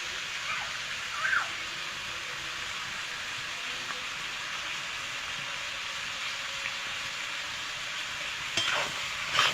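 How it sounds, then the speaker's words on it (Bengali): Goat head frying with salt and turmeric, a continuous even sizzle with occasional soft scrapes of stirring and a brief clatter near the end. "আমি এটা ভালো করে কষিয়ে আনবো"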